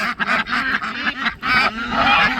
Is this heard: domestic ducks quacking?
yes